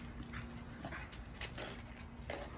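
A dog whimpering in a video game about dog breeding, soft repeated whines and yips over a steady low background hum.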